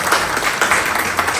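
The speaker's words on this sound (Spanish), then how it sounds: "por favor un aplauso para Benjamín" A short burst of audience applause greets Benjamín Corso at a comics talk, a dense close patter of many hands clapping with no voices over it.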